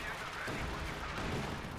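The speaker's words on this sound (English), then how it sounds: "Howitzers are a little belatedly firing on top of it" Howitzer artillery in a Company of Heroes 2 match, a dense continuous barrage of booming blasts and rumbling impacts filling the whole stretch, with a commentator's voice partly over it.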